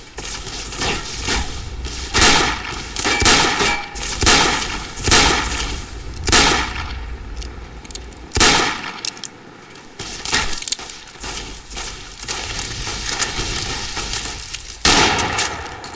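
Loud, rapid gunfire from the video game Fallout New Vegas: a string of sharp, close shots in irregular bursts with brief pauses between volleys.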